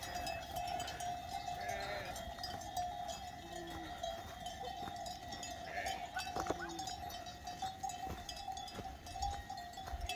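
A flock of sheep wearing bells is driven down to a fenced field near a road, with continuous jangling bells, scattered bleats, and steady outdoor background noise for about ten seconds.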